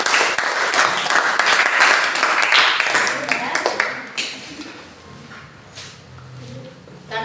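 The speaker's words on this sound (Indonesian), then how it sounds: "Tepuk tangan buat Novela" Classroom applause for a student after she reads her assignment aloud, a dense burst of many hands clapping that fades after about four seconds into scattered claps and room murmur.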